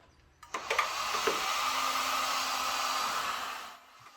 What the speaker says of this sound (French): je vais venir prendre ce merveilleux outil qui est un décapeur thermique. Je vais venir le mettre au minimum parce que sinon je vais déformer la tôle